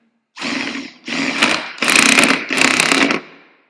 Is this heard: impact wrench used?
yes